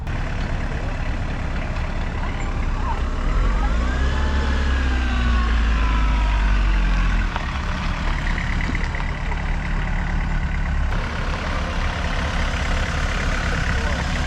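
A Volkswagen MK2 Jetta diesel engine runs with a heavy, steady low rumble close by, its loud clatter holding throughout with little variation.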